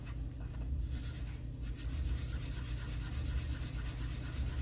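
Quiet, steady rubbing of fine sandpaper on a small polymer clay pendant, with a low hum running underneath the whole time.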